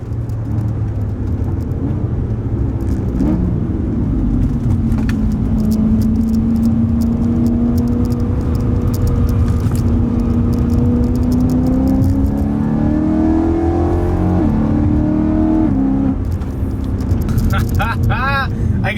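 A BMW E92 M3 engine revs and pulls hard, its pitch rising and falling through several gear changes, loud and close, with people talking over it.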